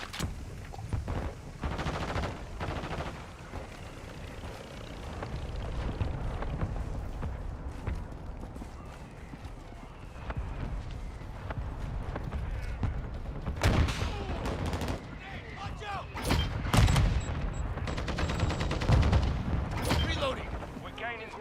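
Call of Duty MW2 gameplay where a mortar strike lands: a dense, continuous battle din, then several heavy booming impacts near the end, all under game radio callouts.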